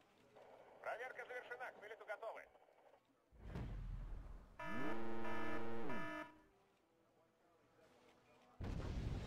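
Artillery fire in the strategy game Wargame Red Dragon: a heavy low boom and rumble, then a loud, sustained, tonal whooshing roar that swells and fades, and another blast at the end, with a voice briefly audible early on.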